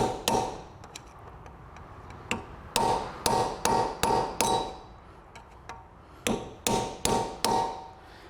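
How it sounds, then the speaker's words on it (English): Hammer striking a lock tab on a Toyota Auris wheel bearing nut: a series of sharp metallic taps, single and in quick bursts of three to five, close and fairly loud. "I'm just gonna bend down this tab"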